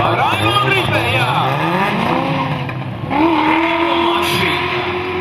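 Racing cars, a Nissan and a BMW, roar past with rising and falling engine pitch and squealing tires at a motorsport event, loud and continuous under an excited commentator's voice.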